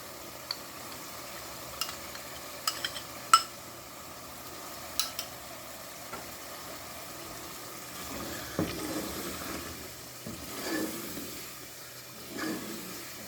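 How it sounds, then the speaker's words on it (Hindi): Yogurt being stirred into a chicken Balochi karahi in a pan, with soft wet scraping and sloshing that builds in the second half after a few light clinks of a spoon at the start. No speech. "ये हाफ कप दही है, ये मैं इसमें शामिल कर रही हूँ"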